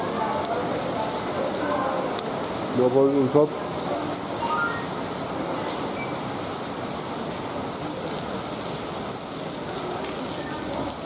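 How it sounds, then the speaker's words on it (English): Continuous soft hiss of rain falling steadily, with a short burst of speech near the start. "it's raining"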